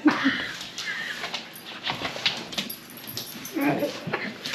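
A dog in a coyote-trapping setting whimpers and yips in short, uneven bursts, close and moderately loud, with some human voices murmuring in the background.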